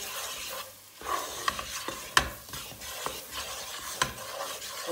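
Flour dough roasting with butter in a pot over low heat is stirred with a spoon, giving soft rubbing scrapes and a faint sizzle, punctuated by a few sharp knocks against the pot, close and fairly quiet.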